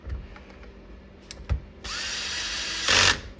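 A power drill driving a T20 Torx screw during a paddle shifter kit install on a 2011-2014 Ford Raptor: a few soft clicks, then a sustained close motor whine rising to a louder burst before stopping.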